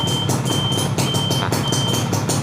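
A motorcycle turn-signal flasher ticks in a fast, even rhythm, close and loud, with a steady tone running beneath it.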